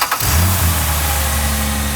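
A vandalized Dodge Journey engine starting, a brief crank catching quickly into a loud, close, steady idle.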